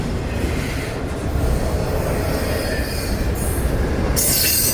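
FECR freight train hauling new automobiles from South Florida rolls close past, loud continuous wheel rumble with clicking rail joints and high metallic squeals of wheels on track building toward the end, no voices.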